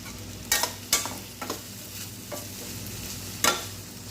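Bitter gourd and onion frying in oil, a soft steady sizzle broken by a few sharp scrapes of a spoon against the pan, spaced irregularly and heard up close with no voices.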